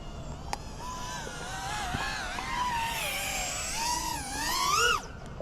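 A custom KUHL 35 freestyle FPV drone flying dives and a power loop, its high-pitched motor whine rising and falling in sweeping pitch bends, steady and continuous, peaking in a loud surge just before cutting off abruptly.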